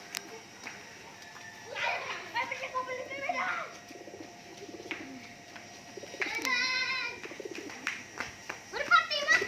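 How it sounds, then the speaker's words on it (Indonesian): Pigeons pecking at cake make soft, close, repeated cooing amid other bird chirps, while children and adults talk and call out over them for most of the stretch. "Merpati makan kue."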